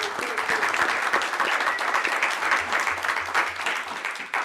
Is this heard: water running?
no